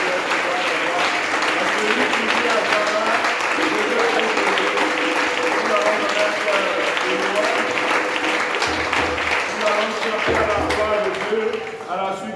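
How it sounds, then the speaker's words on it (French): A church congregation applauds the Lord with sustained, dense clapping that fills the hall at a steady loudness, while voices mix into the crowd noise. "Nous allons acclamer le Seigneur pour ce qu'il fait."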